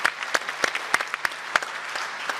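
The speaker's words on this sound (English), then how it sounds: "that deserves a round of applause" Scattered, uneven clapping from a community audience in Bendigo greeting a student on stage, a handful of distinct claps popping out over a thin background, moderately quiet.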